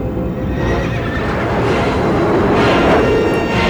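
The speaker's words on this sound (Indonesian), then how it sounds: "Tunggang kuda merah." A horse lets out a loud, drawn-out whinny that rises and trails off over a few seconds, close and prominent with a steady noisy background and no speech.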